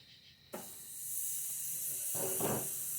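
A steak hits a hot grill and a loud, steady sizzling hiss starts at once and carries on without a break, with a faint voice briefly audible underneath.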